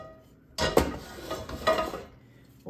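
Spoon stirring seasonings into minestrone soup in a big, heavy pan, a short burst of scraping and clinking of moderate loudness, no talking.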